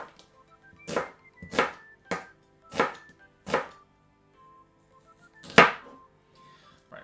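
A knife slices through an onion on a chopping board in about seven distinct thuds, spaced roughly evenly with a pause before the last, close and clear with no speech.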